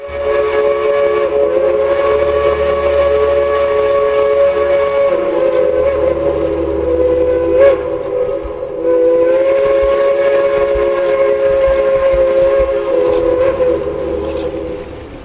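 A steam locomotive rolls past during the 2011 Cass railfan weekend parade, its steam whistle sounding in a long, loud, steady blast over the rumble and clatter of the train for most of the time, with no voices.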